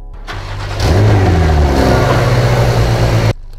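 A Mercedes-AMG Project One in the Driving Empire video game cranks and fires up, its engine swelling to a loud, throaty rev, then settling into a sustained high idle before cutting off sharply.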